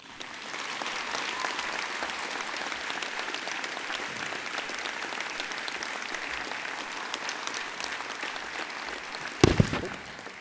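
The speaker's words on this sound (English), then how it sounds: "You can clap again." A graduation ceremony audience applauds a doctoral graduate, steady dense clapping from a large hall that holds evenly, with a brief sharp thump near the end.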